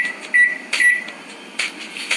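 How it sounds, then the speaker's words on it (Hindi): Microwave oven keypad being set to two minutes: a few sharp electronic beeps mixed with soft button presses and clicks, close and distinct in a quiet room. "और माइक्रोवेव को सेट कर देते हैं 2 मिनट पर"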